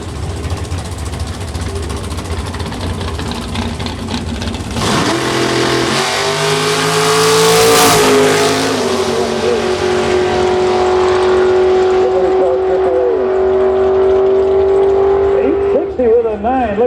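A nitrous outlaw street car with Randy Westfall behind the wheel of Mark Gray's car makes a drag racing run, its engine roaring loudly and climbing steadily in pitch as it pulls away, with an announcer talking over it.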